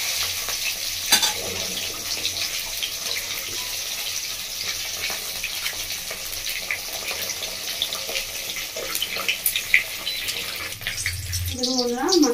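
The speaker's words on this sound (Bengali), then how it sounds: "তো মাছের মাথাটা আমি ভেজে নেব।" Fish head, salted and rubbed beforehand, frying in well-heated oil for a Bengali cabbage dish, a steady broad sizzle running throughout with occasional pops and utensil knocks, a voice briefly heard near the end.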